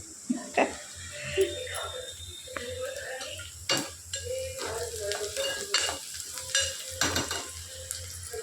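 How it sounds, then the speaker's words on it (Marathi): Onions frying to golden brown for fodnicha bhat, leftover rice, a sizzling pan with repeated spoon scrapes and clinks against the vessel, close by, with a person talking at times. "कांदा गोल्डन ब्राऊन होते."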